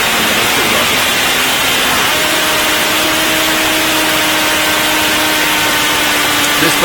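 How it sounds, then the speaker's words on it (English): A spring test firing of a small rocket engine with graphite or copper jet vanes roars as a loud, steady broadband rush, with a faint rising whine threading through it. "I will just briefly show you a small video of the engine that we have tested this spring that will fly on the"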